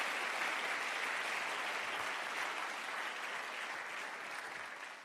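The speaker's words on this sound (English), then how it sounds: "Can I get one more round of applause for Erik de Bruin and our Rector Magnificus?" Audience applause at the university ceremony opening the academic year at Tilburg University, a broad steady roar of many hands clapping in a large hall, sustained and gradually fading toward the end.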